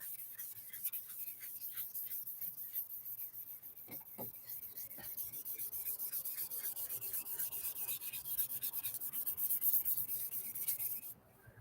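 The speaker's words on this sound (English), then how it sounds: "Just get this all sanded down." A car headlight lens being sanded by hand, a continuous close rubbing and scratching that keeps a steady back-and-forth rhythm and grows slightly louder toward the end.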